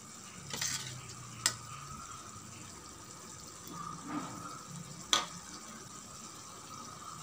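Fried prawns are stirred into a simmering prawn gravy with onion in a pan for Arabic-style prawn dum biryani, giving a soft steady sizzle and bubbling with a few sharp clinks of a spoon against the pan.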